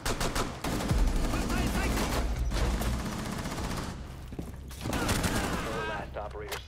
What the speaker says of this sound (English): I shot this dude so many times to not get the kill